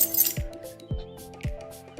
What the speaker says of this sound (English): Those are just my keys, but we can use it as a bell.